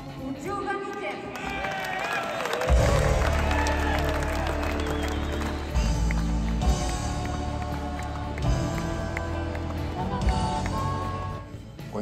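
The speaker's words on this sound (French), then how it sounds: "Un tonnerre d'applaudissements pour Joe Venicker." A Hall of Fame induction ceremony audience applauds an inductee, a sustained burst of clapping and crowd noise that swells and continues at full strength, with background music underneath and some murmuring voices.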